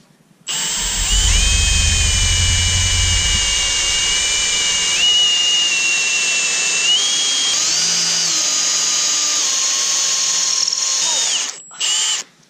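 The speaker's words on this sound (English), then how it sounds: "So I have to drill a straight hole into the wood" A power drill bores a straight hole into a block of wood for a homemade electric go-kart throttle handle, a loud sustained whine whose pitch shifts as the bit bites deeper, then cutting off near the end.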